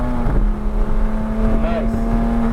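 A Porsche 911 GT3 pulls hard under throttle on a racetrack, its engine a steady, loud in-cabin drone with a rising tone, continuous throughout the short stretch.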